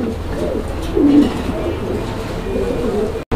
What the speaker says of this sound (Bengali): এখানে একটা সিরাজি কবুতরের জোড়া রয়েছে। এটা সিলভার সিরাজি।